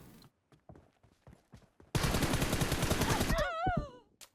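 Dense burst of rapid automatic gunfire in the mobile battle-royale game PUBG Mobile, lasting about a second and a half, loud and continuous, preceded by quieter footstep-like taps and followed by warbling tones.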